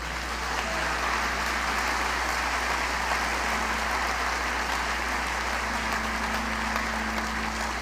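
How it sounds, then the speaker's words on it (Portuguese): A church congregation claps hard and without a break, a dense, even roar of applause that holds steady the whole time. "Dá um aplauso bem forte ao Senhor."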